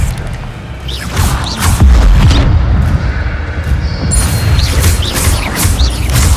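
Expelliarmus spell cast in Hogwarts Legacy, a loud magical burst with deep booming impacts and crashing thuds, followed by a sustained rumbling swell with bright shimmering accents, heard alone without talk.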